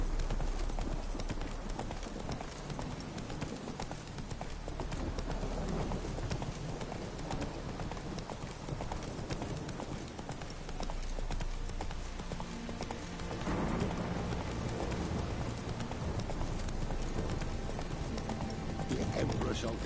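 Roach the horse trots along in The Witcher 3, her hooves clip-clopping in a steady rhythm throughout, under game music and speech.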